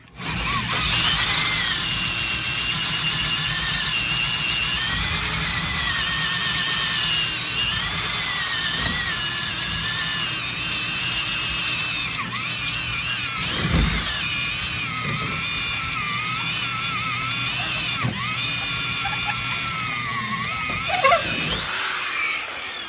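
A power tool grinds steadily into a broken waste tube during a repair, a loud continuous whine with shifting pitch and a few brief knocks, running nearly without pause.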